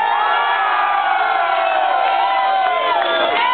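A large concert crowd at a live DJ performance cheers and shouts together, loud and sustained throughout, with high excited voices and whoops rising near the end.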